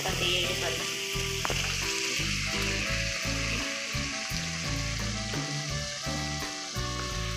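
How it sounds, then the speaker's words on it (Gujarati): Chopped potatoes sizzle loudly in a hot pan of oil, a steady, close frying hiss with crackling that continues throughout without any speech. "હવે આપણે તેમાં જે બટેકા આપણે સમારીને તૈયાર કરીને રાખ્યા હતા તે એડ કરીશું"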